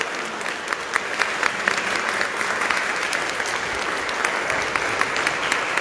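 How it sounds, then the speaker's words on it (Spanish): Church congregation breaks into steady applause, a dense even wash of many hands clapping with scattered sharper claps, sustained throughout at moderate loudness. "Vamos a darle un fuerte aplauso a Jesucristo nuestro Señor."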